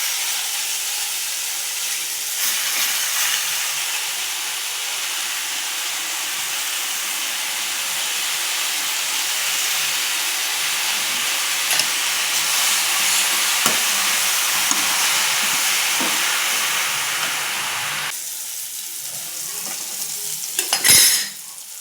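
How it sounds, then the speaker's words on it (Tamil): Chopped black nightshade greens fry in a hot pan with a steady, close sizzle and hiss. Occasional scraping stir strokes and a utensil knock are heard, with no voices. "அடுத்து மணத்தக்காளி கீரையை நறுக்கி வச்சுருக்கதை போடுறேன்"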